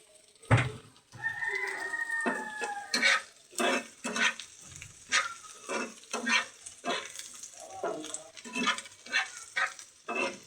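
Onions frying in a pan on a home stove for lunch, with repeated sharp scraping and stirring bursts over a low sizzle, while birds call and a rooster-like sound is heard faintly in the background.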